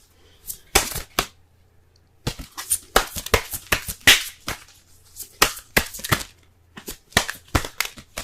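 Romance Angels oracle cards being shuffled by hand, a series of sharp riffling bursts and soft slaps in irregular clusters, close and fairly loud with quiet gaps between.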